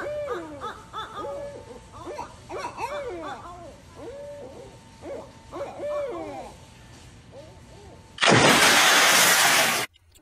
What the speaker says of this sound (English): I wonder what this owl is trying to say.